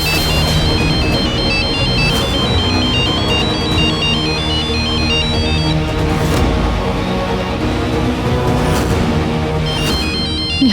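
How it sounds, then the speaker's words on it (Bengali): A phone rings indoors in a dramatic household scene, its electronic ringtone melody repeating loudly and continuously for about eleven seconds with no one talking. "ফোনটা তুলুন তাড়াতাড়ি"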